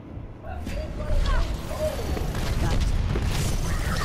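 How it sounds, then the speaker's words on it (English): Loud, dense Overwatch battle noise with rumbling explosion booms and bursts, a voice talking over the chaotic action throughout. "Explosions! Explosions!"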